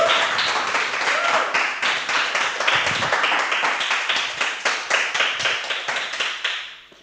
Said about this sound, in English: That's quite a long applause, which is nice.